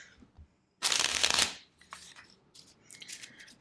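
A quick, crisp burst of tarot cards being shuffled, close by, followed by a few softer riffles and taps.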